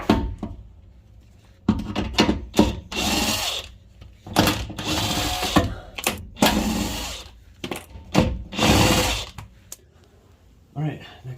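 A DeWalt impact gun works on bolts of a Jeep TJ, giving repeated short loud bursts of hammering whir separated by pauses, with someone talking between them.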